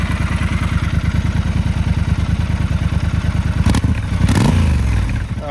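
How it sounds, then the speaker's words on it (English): A 2022 Triumph Scrambler 1200 XE twin idles close by with a steady, even exhaust pulse, then blips the throttle twice in quick succession before settling into a louder, held rev near the end. "let's do a little exhaust clip here"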